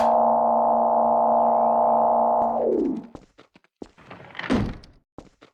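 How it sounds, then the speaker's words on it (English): The TARDIS doors of the 1973 Third Doctor model open in Garry's Mod: a steady, layered electronic hum winds down in pitch, then scattered clunks and a brief whooshing rush follow, with no voices. "so we can just open the doors again"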